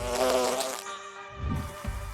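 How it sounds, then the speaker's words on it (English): A steady golden bee fly buzz hums close by, shifting pitch slightly as it hovers, with faint rustling underneath. "you'll see the golden bee fly moving through the air"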